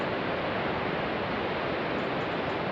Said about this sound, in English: You're not always walking along the cliffs and right next to the sea, but you can always hear it.